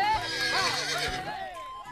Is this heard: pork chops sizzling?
no